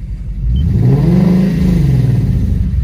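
A Lexus IS F engine revving with its exhaust valves open, a loud, close, deep exhaust note that swells in a smooth rise and fall and holds a throaty rumble throughout, with no talking.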